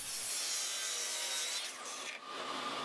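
Long continuous rasp of a miter saw blade cutting through workbench leg stock against a stop block, loud and close, the tone shifting briefly near the end of the cut, with no voices.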